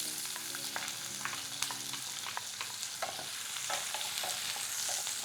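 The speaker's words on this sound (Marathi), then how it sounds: "कांदा हलकंसं मऊ होईपर्यंत आपल्याला परतायचं आहे." Chopped onion sizzling softly in a pan, with repeated scraping stirs of a spatula against the metal, close and fairly quiet.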